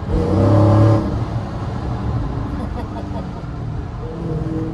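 A Dodge Challenger R/T Widebody engine revs hard on a downshift while the car drives through a tunnel, a loud deep roar that swells in the first second and settles into a steady rumble as someone talks over it.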